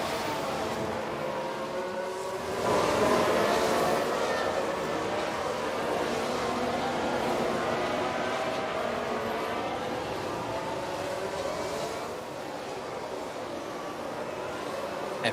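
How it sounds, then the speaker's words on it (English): A pack of F1 race cars roars off the start at Monaco in F1 Manager, a dense, continuous blend of engines that swells in a surge, then holds as a loud, even drone before easing slightly near the end. "Oh my, that's just so messy watching those cars come up there."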